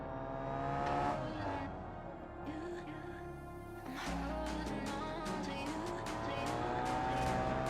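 The Civetta Bolide 350 race car in BeamNG drives with a loud, steady engine drone that shifts pitch as it accelerates and changes gear, with faint tire noise, close and continuous.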